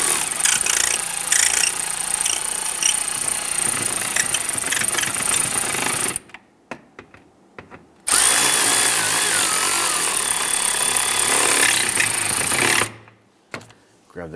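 A powered socket driver snugs down the fog light screws on a 2011-2021 Jeep Grand Cherokee, with two long, loud, steady whirring runs separated by a brief pause and a few small clicks, then a quick stop.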